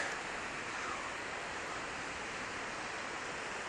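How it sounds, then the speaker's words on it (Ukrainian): Steady broadband wash of an ocean wave rolling in at high tide, a continuous loud rushing hiss with no breaks, heard alone without voices. "Ну от, бачите, от йде хвиля."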